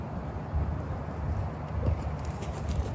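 Hooves of a young, formerly wild horse loping under a rider out in the open, a soft rhythmic clip-clop thudding at moderate distance over a steady outdoor background.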